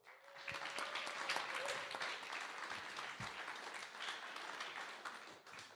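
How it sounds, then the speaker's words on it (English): Sustained audience applause fills a conference hall at a tech talk, dense and steady clapping from many hands throughout, fairly distant and fading slightly near the end. "They will give you a big round of applause."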